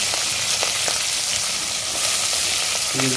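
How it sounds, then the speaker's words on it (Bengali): Onions with green and dried chili frying in a pan of oil for Bengali lau ghati, giving a steady, close, dense sizzle with a few light stirring clicks. "তার সঙ্গে দিয়ে দিচ্ছি আমি অনিয়নগুলো দিয়ে দিচ্ছি।"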